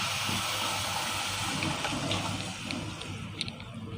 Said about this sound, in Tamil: இப்போ ஊற்றிக்கிறலாங்க.